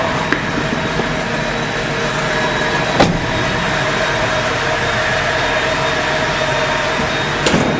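Toyota 2F engine idling at about 800 rpm, a steady close drone with a faint fixed whine and two brief sharp knocks partway through, no talk over it.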